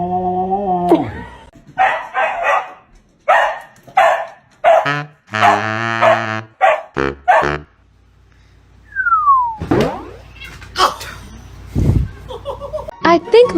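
A dog gives a series of loud, close barks and yips in irregular bursts, mixed with a whistle-like tone and people talking between the outbursts.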